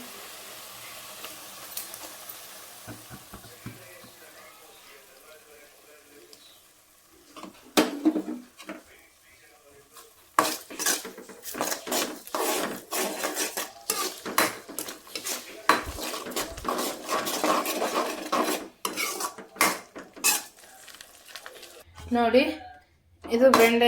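A spoon stirs curd into gravy in a metal pot, making busy clinking and scraping that grows denser after a quiet start, with someone talking over parts of it.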